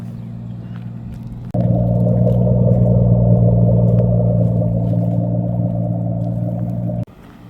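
A 1987 Toyota Supra Mk3 engine starts and idles steadily, with a loud, close, even rumble that kicks in abruptly and runs for several seconds before cutting back to a lower hum.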